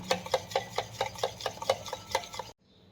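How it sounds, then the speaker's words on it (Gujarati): A whisk beating besan batter for pudla in a bowl, brisk, evenly spaced taps and swishes about four per second, close and clear, stopping abruptly before near silence. "અને સારી રીતે હવે આપણે વિસ્પરની મદદથી આવી રીતે આમ હલાવી લેવાનું છે"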